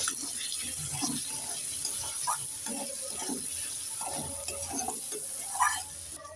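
Turmeric and chili powder get stirred into small puti fish in a pan, with soft wet scrapes and clinks of a spoon coming in uneven bursts over a faint background hiss, close and fairly quiet.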